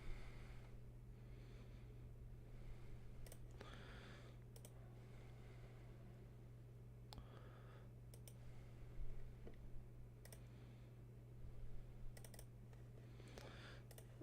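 A computer keyboard and mouse click and clatter in quick, irregular bursts of close typing and sharp clicks over a low steady hum, with no talking.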